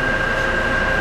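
Inside an Amtrak passenger car travelling between Tampa and Miami, a steady, dense rumble of the moving train fills the air, with a faint constant whine above it and no breaks.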